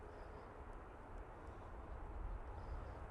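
A TUI Boeing 737 MAX 8 departs Manchester Airport for Boa Vista, a faint, distant, steady jet engine roar that builds slightly in loudness.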